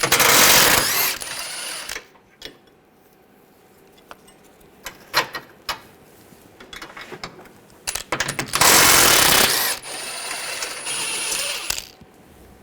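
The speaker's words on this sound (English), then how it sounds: "Using an 18mm wrench on the nuts up top here, and then 18mm socket, take these bolts out." Bolts being removed from the front lower control arm of a 2013-2015 Chevrolet Malibu with an 18mm socket: two bursts of loud, close power-tool whirring bracket scattered metallic clicks, clanks and ratcheting, with no talking.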